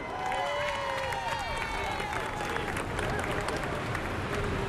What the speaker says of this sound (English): Big round of applause for Courtney Hancock.